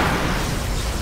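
A laser beam eyes explosion power in the City of Heroes video game gives a loud, broad, noisy burst that fills the short moment with a sustained crackling rumble.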